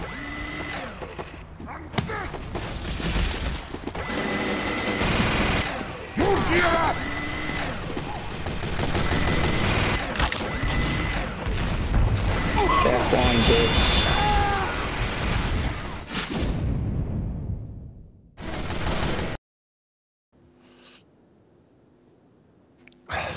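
Rapid gunfire from the video game Team Fortress 2, dense bursts of shots and clatter running loud and continuous for most of the stretch, then cutting out to near silence with a faint hum near the end.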